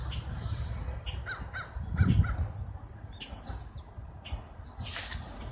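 A crow caws a few times at a distance outdoors, short harsh calls rising above steady low rumbling background noise, with no one talking.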